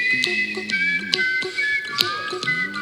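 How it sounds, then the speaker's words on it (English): A man whistles a bright, wavering melody over a steady backing of hummed and layered voice tones, with occasional soft percussive clicks. "He's whistling, he's humming."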